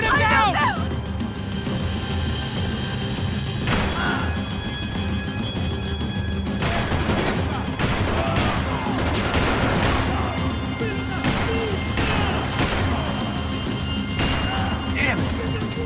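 Repeated gunfire, a dense run of loud sharp shots and bursts mixed with crashes and shouting voices, continuing for the whole stretch.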